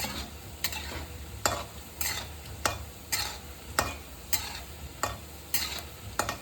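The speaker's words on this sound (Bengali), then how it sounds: "দেখো আমি ভালো ভালো জোরদার নাড়াচাড়া করছি কিন্তু এটার উপরে।" Ledikini sweets made with carrot, paneer and sooji frying in oil, a low continuous sizzle broken by regular vigorous stirring scrapes about every half second to second.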